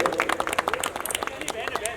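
Brief burst of audience clapping at a seminar on railway job vacancies, dense and rhythmic claps filling the room with a voice partly audible underneath.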